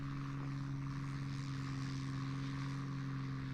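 A propeller-driven fighter plane's engine drones steadily in the War Thunder combat flight game, a continuous even hum with strong low tones that holds at a constant level throughout, with no talking.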